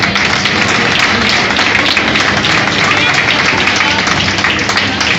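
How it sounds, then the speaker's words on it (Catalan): Audience applause at a fishing club trophy ceremony, dense sustained clapping from a crowd filling the room, loud and continuous throughout. "Moltes gràcies i un aplaudiment per tots."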